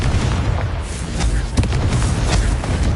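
A loud, sustained fiery blast from the Confringo spell in Hogwarts Legacy, a dense booming rumble filling the whole moment with a few sharper crackles, close and powerful with no talking.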